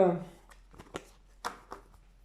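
A deck of tarot cards is shuffled and cut for a card reading. A voice opens the clip, then a few soft, close papery flicks and slaps of cards follow in quiet succession.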